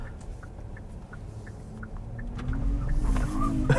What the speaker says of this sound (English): the chirp from the rear tires